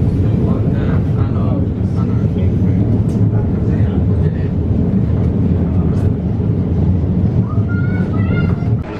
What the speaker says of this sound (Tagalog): Guys, nasa tren na kami.